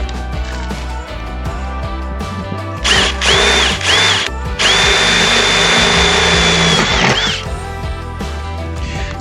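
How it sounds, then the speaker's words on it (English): A power drill drills holes in two bursts, rising to a high spinning whine, close and loud, with handling noises and clatter between them. "then drill my 2 holes"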